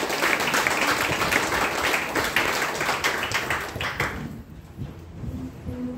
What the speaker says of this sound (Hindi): हमारे गुरुजी के लिए जोरदार ताली हो जाए